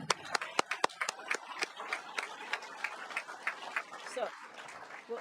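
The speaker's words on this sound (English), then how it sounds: "Could we just have a quick round of applause for these" Audience at a Bay Mills Community College graduation ceremony applauding the graduates, a burst of scattered claps that thins into sparse clapping, with faint voices underneath.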